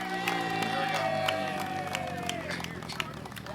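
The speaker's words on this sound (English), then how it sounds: "So how about a round of applause for Geraldine?" An outdoor audience at a motorcycle show applauds and cheers for a woman who collected ballots, steady clapping with whoops over a continuous crowd murmur and a sustained tone, a voice speaking briefly.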